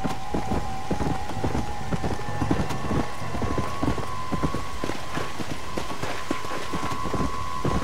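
Steady rapid hoofbeats of a horse galloping in the video game Red Dead Redemption: Undead Nightmare, a continuous clip-clop rhythm heard with a constant tonal background hum.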